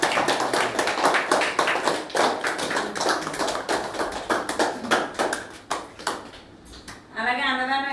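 Steady rhythmic clapping from an audience at an ashram meal served to elderly residents, continuous and fairly close, fading near the end as a voice speaks.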